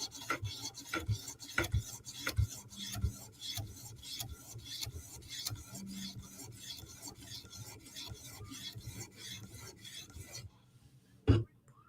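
A knife heel is drawn over a sharpening stone in a steady run of short, rhythmic rasping strokes up close. The strokes stop near the end, followed by quiet and a single knock.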